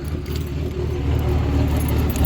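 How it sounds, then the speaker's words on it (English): Car keys jangling loudly and continuously close by as they are pulled out at a fuel stop, over a low engine-like rumble, with no talking. "Take these keys out."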